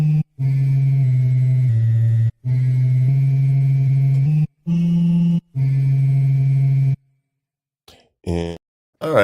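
A recreated Telharmonium sample played through a pine box speaker: sustained organ-like electronic tones, loud and close, held in several long notes at shifting pitches with brief gaps, then trailing into short fragments.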